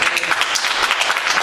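Short burst of audience applause at a public community meeting, dense and fairly loud clapping filling the whole moment without talk.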